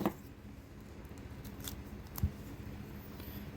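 Scissors or a blade snips through a bobcat's paw while the pelt is skinned during fur handling. The cuts are quiet and close, with one cut at the start and another sharp cut a couple of seconds later, over low background hiss.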